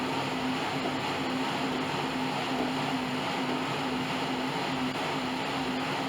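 A Bowflex Max Trainer flywheel spins at an easy pace, giving a steady, continuous whir with a constant low hum throughout and no pauses.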